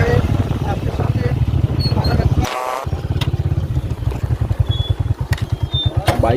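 Motorcycle engines run near a flooded area with a close, throbbing low putter that pulses rhythmically, briefly cut off midway, while people talk over it outdoors.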